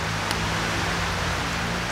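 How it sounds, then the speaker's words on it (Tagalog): Steady rain falls as a dense, even hiss, close and continuous, with no voices over it. "ito na naman yung ulan"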